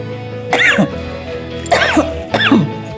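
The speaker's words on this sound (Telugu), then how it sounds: "ఘాటు కదండి, దగ్గు వస్తుంది." Three harsh coughs from pungent pickle cooking fumes, spaced about a second apart, close and fairly loud, with a low hum in the background.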